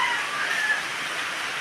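Early rain comes down as a steady, even hiss of broadband noise, close and continuous for the whole short stretch, with no voices over it.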